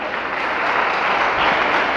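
A workshop audience on cyber security awareness breaks into loud, sustained applause, many hands clapping in a dense, even roar with no talk over it.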